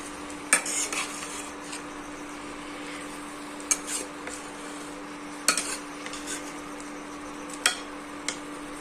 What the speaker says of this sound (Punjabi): ਆਲੂਆਂ ਨੂੰ ਚੰਗੀ ਤਰ੍ਹਾਂ ਮਿਕਸ ਕਰ ਲਾਂਗੇ